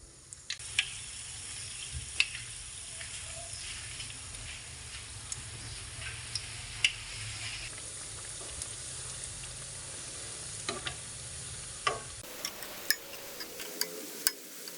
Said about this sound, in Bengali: এখন পেঁয়াজগুলোকে ভেজে নিতে হবে